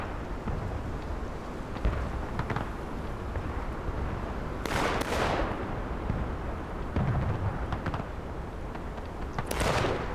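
Artillery firing at a Civil War reenactment, two muffled booms rolling out several seconds apart over steady outdoor noise, distant rather than close.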